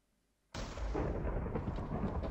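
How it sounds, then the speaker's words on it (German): In the Minecraft video game, a lightning strike lands with a sudden loud crack that rolls into a sustained, heavy rumble of thunder lasting about two seconds after a quiet start. "Da ist ein Blitz irgendwo eingeschlagen."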